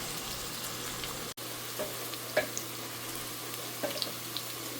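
Onions fry in a pan for sajna-drumstick masoor dal, a faint, steady sizzle with a constant hum beneath it and a few soft clinks, heard alone without talk.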